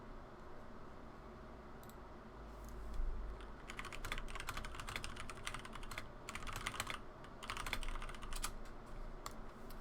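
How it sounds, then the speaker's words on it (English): A computer keyboard clatters in rapid bursts of typing very close to the microphone, keys ticking loudly in irregular runs over a steady low background hum, with no talking. "my keyboard is probably pretty loud. It's fairly close to my mic."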